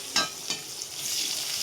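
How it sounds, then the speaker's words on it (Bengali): Onions fry in ghee in a pan, with a steady close sizzle that rises after a couple of brief stirring scrapes at the start. "পেঁয়াজ নিয়ে নিয়েছি ভাজার জন্য, এটাও ভেজে নিব।"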